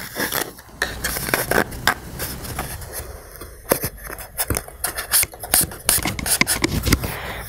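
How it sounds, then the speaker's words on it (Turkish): A rainstick tube being drilled crosswise by hand, heard as close, uneven grinding and rasping strokes in bursts, with some sharper scraping clicks toward the end. "İç kısmını bu şekilde çapraz gelecek şekilde deliyorum."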